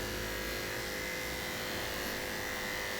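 Electric hair clippers run steadily through coarse African American hair during a haircut, a constant close buzzing hum with no pauses and no talking.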